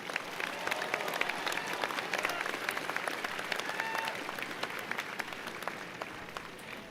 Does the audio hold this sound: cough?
no